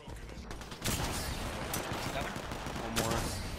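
Rapid gunfire from an enemy in a chaotic online shooter match, loud bursts of shots and mechanical clatter filling the whole stretch, with a sharp burst near the end and players' voices faintly under it.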